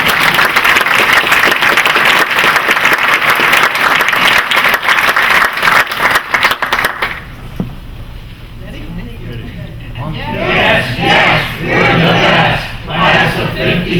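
The class of 1956 at a college alumni awards gathering cheers loudly in unison, then a broad crowd applauds and shouts, a dense wash of clapping and voices filling the room.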